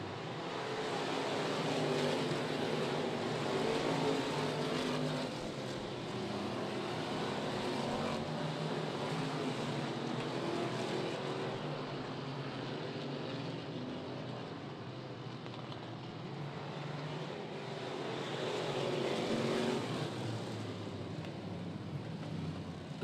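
Race cars roaring around the Talladega short track during a winter Ice Bowl streets-class feature, a continuous engine drone from several cars that swells and fades as they pass, with no voices.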